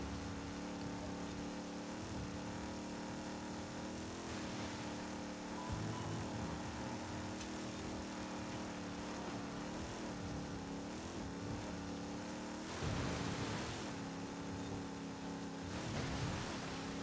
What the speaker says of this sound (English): even though this is a big heavy muscle car, it still does get dragged down by water.